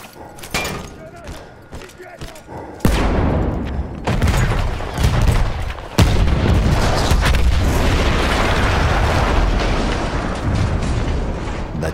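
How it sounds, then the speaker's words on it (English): Heavy explosions go off in the World War I shooter Battlefield 1 during its Italian front campaign: deep booms hit in a few loud bursts, then a sustained rumbling roar with crackling debris, close and dominant, with some speech mixed in. "That explosion was one of the sweetest sights of the war for me."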